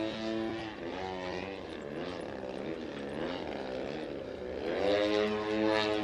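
A model aircraft flies aerobatic manoeuvres at the Woodspring Wing Show, its engine and propeller whining continuously at a distance, rising and falling in pitch as it swoops and climbs overhead.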